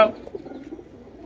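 A pigeon coos softly at a pigeon fanciers' club, a low burbling call up close after a brief sharp sound at the start.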